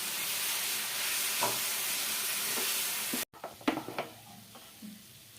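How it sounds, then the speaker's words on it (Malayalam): Fried vermicelli being stirred with condensed milk in a pan for semiya barfi: a steady sizzling hiss, then a break followed by scraping, clattering stirring strokes. "ഈ മിൽക്ക് മെയ്ഡ് ഞാൻ ഇതിലേക്ക് ഒഴിച്ചു കൊടുക്കുവാണ് എന്നിട്ട് നമുക്ക് ഇതിട്ട് നന്നായിട്ടൊന്ന് മിക്സ് ചെയ്ത് കൊടുക്കാം"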